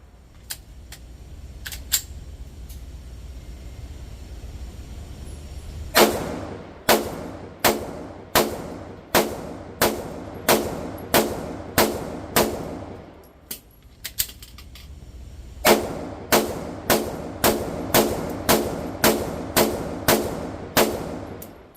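A Springfield Echelon Comp pistol with a ported compensator fires two strings of evenly spaced, sharp, loud shots, about ten each, separated by a short pause with faint clicks and handling noise, outdoors and with no talking.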